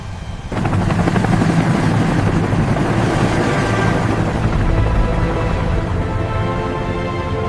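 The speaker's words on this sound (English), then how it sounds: "The rhythm of rotor blades cutting through the storm." Loud, steady thumping of helicopter rotor blades with a rushing roar, close by and continuous after a sudden start.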